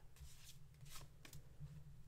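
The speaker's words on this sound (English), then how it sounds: "the sounds of me shuffling the deck" A deck of tarot cards being shuffled up close in a quiet room, several soft riffling bursts of card flutter with brief pauses between them.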